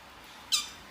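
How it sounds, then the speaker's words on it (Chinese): A small bird gives one brief, sharp squawk in the early morning, fairly close against a quiet background. "这一大早，小鸟起来喊我起床了"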